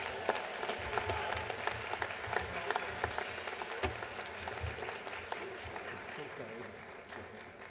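A large audience at a university commencement ceremony claps for newly graduated nursing students, a sustained wash of applause with scattered louder claps that gradually thins toward the end, heard at a moderate distance.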